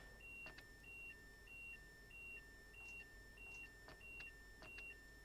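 An alarm beeps in the cab of a Train Simulator train on the London to Faversham route, a repeating pattern of two-tone electronic beeps over a steady rumble. Fainter clicks sound now and then.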